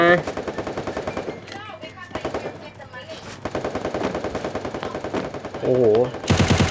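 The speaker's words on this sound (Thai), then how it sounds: "ผมว่าจะเอาลูกซองเล่น" Shotgun fire in a video game: rapid bursts of loud gunshots close up, with someone talking excitedly between and over the shots.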